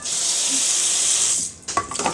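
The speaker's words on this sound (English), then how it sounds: "My hot pan easily cooked. And what happens if I add water? Steam comes." Water splashed into a hot pan while cooking spicy noodles sets off a loud, steady steam hiss for about a second and a half. Clattering stirring noises follow at close range.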